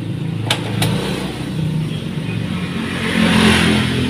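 A Yamaha NMAX scooter engine runs at a steady idle close by, then rises slightly toward the end, with two sharp clicks near the start.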